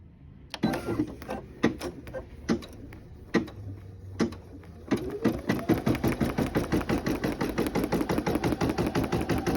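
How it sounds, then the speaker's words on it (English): A Brother PE800 embroidery machine stitching, with a few spaced clicks at first and then a fast, even run of rhythmic needle strikes, close and moderately loud. "we're gonna hit start and start embroidering"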